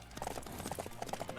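In-game horse hooves from Samurai Warriors 5 clop in a quick, uneven rhythm over a busy battle soundscape, with a voice-like murmur underneath.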